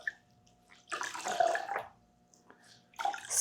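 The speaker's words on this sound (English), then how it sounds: "squeeze out the water" Water dribbling and splashing from wet cheesecloth wrung out by hand, two bursts of running trickle separated by a short quiet pause, close and fairly loud.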